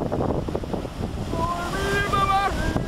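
Ocean waves wash close by, about fifteen feet away, as a steady loud roar mixed with wind buffeting the microphone, and a faint tonal whine rises partway through.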